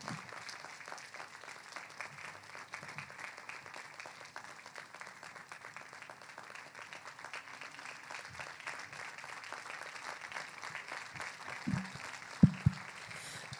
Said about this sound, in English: Please don't stop clapping. We have to keep clapping till the Chief of Party of the SCALE project takes her seat.